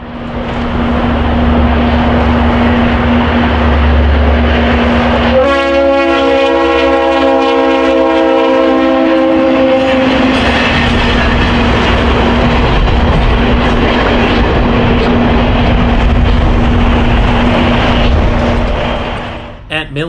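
A train runs past near the Gary Depot by the South Shore commuter station just south of Interstate 90, a loud, close, steady rumble with a sustained horn blast in the middle, and a voice talking over it.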